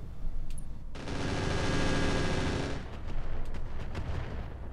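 A tank in the video game Roguetech lets off a sustained burst of weapon fire lasting about two seconds, loud and dense, followed by scattered sharp impacts and crackles as it dies away.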